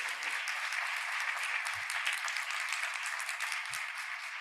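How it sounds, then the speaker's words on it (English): Steady, dense audience applause at a medical school winter commencement ceremony, sustained evenly throughout with a few soft low thumps underneath. "Please give them all a round of applause"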